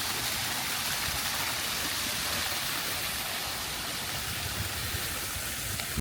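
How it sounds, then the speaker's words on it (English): A small decorative waterfall fountain beside a little fish pond in a cruise port garden pours steadily, giving a constant close splashing rush with no pauses. "And then they have this little water fountain thing right here."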